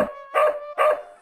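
A dog barks twice in The Blackwell Legacy adventure game, two close, loud, evenly spaced barks with nothing else around them.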